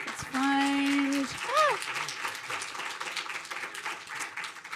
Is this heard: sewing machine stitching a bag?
no